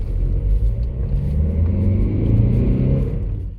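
Car engine running after a turbocharger control sensor adjustment, a loud close low rumble with slight rising revs, no talk.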